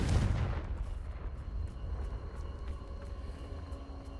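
Bombarda and Confringo spell blasts in Hogwarts Legacy: a loud booming burst at the start that decays into a long rumbling tail, with faint repeated crackles behind it.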